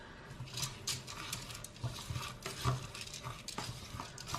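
A spoon stirs a fermented wheat couscous mixture in a bowl, giving soft, continuous scraping and rustling with small clinks, close and steady with no talk.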